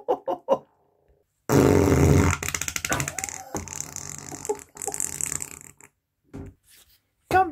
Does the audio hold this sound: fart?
yes